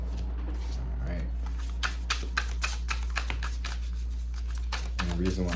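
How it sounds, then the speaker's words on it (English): A deck of playing cards is shuffled by hand in a string of crisp riffles and soft flicks under ongoing talk, with a steady low hum throughout. "the reason why I shuffle like this, usually, so I don't see them"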